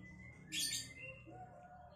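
A male white-rumped shama of the Medan type, held in a dealer's stock, gives one short, bright chirp burst, followed by a few fainter whistled notes against quiet background hiss.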